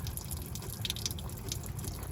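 Coolant drains and drips from the engine of a Dodge Chrysler Caravan minivan with a 3.3 or 3.8 litre V6 during a water pump job, a close, faint trickle with scattered drips.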